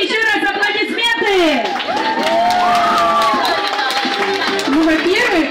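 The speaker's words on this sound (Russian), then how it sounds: "И давайте еще раз аплодисменты." Audience at a corporate evening event at a Black Sea coast sanatorium hotel applauds and cheers steadily throughout, with crowd voices, whoops and talk mixed in over the clapping.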